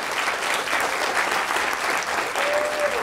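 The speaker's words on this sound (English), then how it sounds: "Can I have a round of applause for them?" Audience at the !!Con West 2020 closing remarks applauds sponsors with steady, dense clapping that stays loud and even throughout, with no one speaking.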